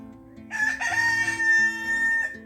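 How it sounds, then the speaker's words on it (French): A rooster gives one full cock-a-doodle-doo crow, clear and fairly close, in a garden setting with no talk over it. "au chant du coq"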